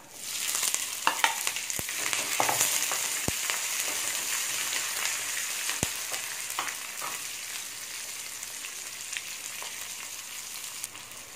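Ginger and green chilies sauté in a hot pan, with a steady sizzle and fry running throughout and occasional sharp clinks and scrapes of stirring, close and moderately loud with no voices.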